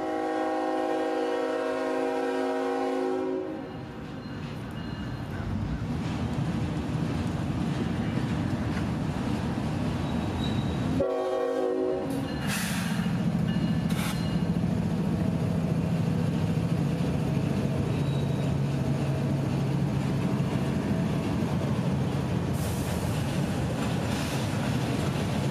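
Freight train rolling out of a siding past a junction, heard from nearby with a sustained rumbling roar and a long horn blast near the start, a second horn blast partway through, then steady rolling noise.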